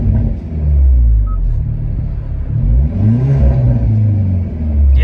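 A 2020 Hyundai Veloster N exhaust revs up and settles repeatedly, a raspy, throaty engine note rising and falling in pitch, loud and close, with no talk over it.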